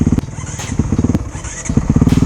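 Honda CRF450RX enduro motorcycle, 2017 model with electric start, running close by with a loud, choppy single-cylinder engine pulse that rises and falls in rhythmic bursts, carrying on for a couple of seconds.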